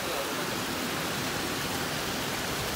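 Small Champa Thong waterfall in Phayao, Thailand, a gentle overflow-like cascade, giving a steady, dense rushing wash of water that stays even throughout with no breaks.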